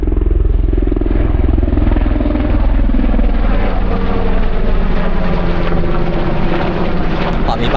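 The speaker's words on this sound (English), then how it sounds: "there's another one, look, helicopter." Helicopter flying overhead above a hiking trail on the West Highland Way, a steady loud rotor and engine drone filling the whole stretch, with voices talking underneath.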